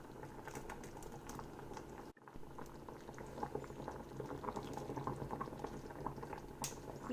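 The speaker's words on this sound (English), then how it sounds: "You let the noodles boil for 4 minutes" Egg noodles bubble in a pot of chicken laksa broth, a quiet, steady boil of popping bubbles and gurgles up close, briefly cutting out for a moment partway through.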